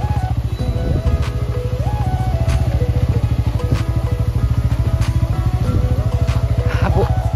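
A motorcycle ridden on an off-road track during a holiday trip, its engine droning steadily and close throughout, with pitch rising and falling as the rider shifts and revs over rough ground.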